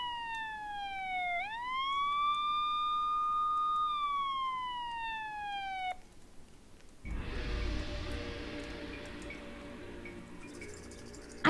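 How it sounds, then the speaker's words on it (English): A police siren wails in the Nancy Drew game Secret of the Scarlet Hand, rising, holding and falling over several seconds. A brief quiet gap follows, then a burst of broadband rumbling noise with no voices. "Sound of police sirens."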